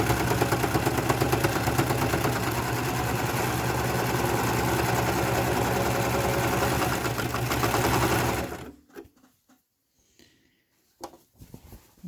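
A serger overlocks and trims the edge of a pillowcase, its fast, steady mechanical chatter running loud and continuous for about eight seconds before stopping abruptly, leaving near silence with a few faint handling noises.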